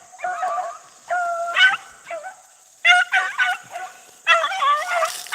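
Beagle hounds bay while chasing a rabbit through brush, several fairly close dogs giving repeated bursts of high, yelping bays and howls in irregular clusters separated by brief quiet gaps.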